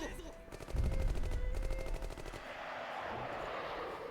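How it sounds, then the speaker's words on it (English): Gunfire in the action game Code Vein: a loud burst of rapid automatic shots in close succession, then a rough, noisy battle backdrop that continues at lower level with no talking. "carefully gonna leave with all the gunfire happening"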